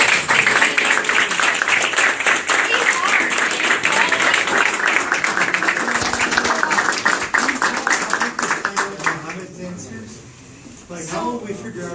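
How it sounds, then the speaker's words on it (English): Audience applause fills a candidate forum on climate resilience, a dense sustained clapping that stays loud for several seconds, then thins and fades near the end as a voice begins. "Let's do another round of applause."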